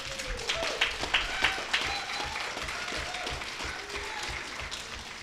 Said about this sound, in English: That applause is for all of you.